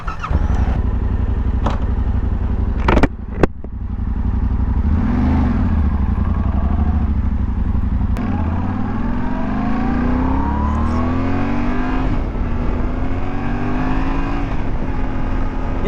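A 2024 Yamaha Tenere 700 motorcycle being ridden, its engine droning loud and steady with rising and falling pitch through gear changes and revs, plus a few sharp clicks near the start.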